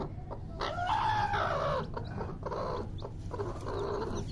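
A hen clucking among newly hatched chicks, with nearby clucks and a few louder calls over a steady background of chicken noise and faint cheeping.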